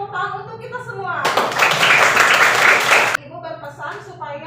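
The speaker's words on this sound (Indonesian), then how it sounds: "Mari kita tepuk tangan untuk kita semua" A class group claps together during an Indonesian school lesson, a loud dense burst of applause lasting about two seconds, with someone talking before and after it.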